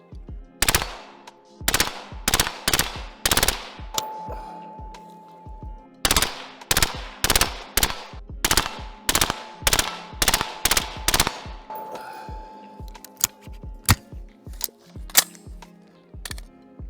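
SIG Sauer MCX SURG 5.56 rifle firing loud, sharp close-range shots in quick bursts and strings of rapid single shots, with short pauses between groups and a faint steady tone running underneath.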